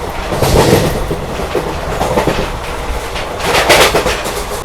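Passenger train at about 100 km/h, heard from on board: loud, steady rumbling rail noise with rhythmic clickety-clack surges from the wheels.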